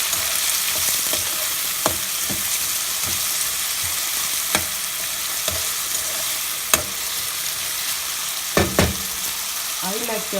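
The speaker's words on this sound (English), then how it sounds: "We'll fry the onions until they turn little bit brown." Onions and chili frying in a pan give off a steady close sizzle, marked by occasional sharp clicks and scrapes of a spoon against the pan and a short clattering stir near the end.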